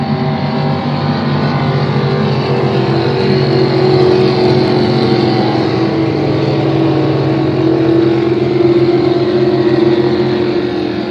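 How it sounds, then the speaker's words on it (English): Racing boats at a regatta thunder past in a continuous, loud engine roar that swells slightly as they go by, heard without any talk. "So the first boat down in the lower corner there is Levi Weber driving boat number 28"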